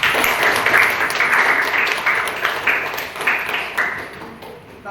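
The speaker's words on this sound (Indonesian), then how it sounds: "Tepuk tangan Bapak ini." A crowd claps together in steady applause, moderately loud and dense throughout, gradually thinning near the end.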